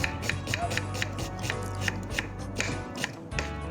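Knife chopping onions on a board while making mutton biryani, a steady run of quick close taps with brief pauses, no talk.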